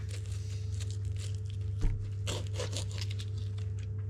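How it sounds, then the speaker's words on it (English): Hard, spiky soursop skin being peeled away thinly by hand, giving a steady close crackle of tearing and crinkling over a constant low hum, with one sharper knock midway. "So that's the first task, is to peel all the soursop off."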